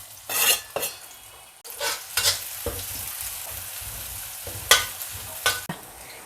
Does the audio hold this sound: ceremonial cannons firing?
no